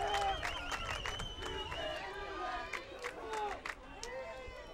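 A crowd at a college women's soccer championship match between Troy and South Alabama reacts with a rising murmur and scattered shouts after a foul, heard at a distance beneath a commentator's voice.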